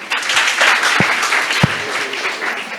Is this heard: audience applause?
yes